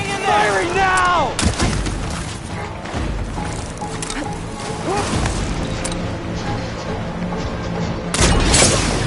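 Heavy weapon fire and impacts in the action game Horizon Forbidden West, loud booming blasts and crashes spread through a busy battle mix, with brief game voices calling out between them.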